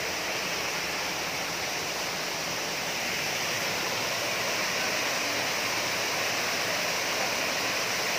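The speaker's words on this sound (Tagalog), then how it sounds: "Ari na mo diri guys sa Tinubdan Waterfalls" Tinubdan Waterfall in Catmon, Cebu pours in a dense, steady rushing roar, loud and close, with no breaks and no voices over it.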